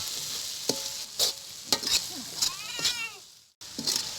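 Coriander is stirred into frying vegetables in a pan, giving a soft sizzle under repeated spoon scrapes and knocks, plus a brief whistling squeak near the end and a momentary cutout, with no speech.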